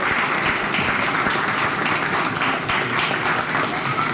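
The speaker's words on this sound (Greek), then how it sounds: "Ένα χειροκρότημα στην Κριτική Επιτροπή." Steady, dense applause from an audience at a shadow theatre competition in Patras, a full crowd clapping evenly throughout at close range with no pauses.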